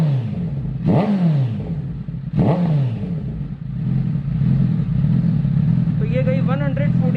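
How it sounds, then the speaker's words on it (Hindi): A Honda CBR 1000RR superbike engine revs up sharply twice, reaching about 5000 RPM, then holds a steady high idle, loud and close, with someone talking over it. "अब मैं रैप कर रहा हूँ इसको।"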